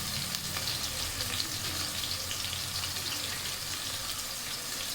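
Onions, green chillies and curry leaves frying in a pan for kakhadi chicken curry, a steady broadband sizzle with watery crackle running continuously and fairly close throughout.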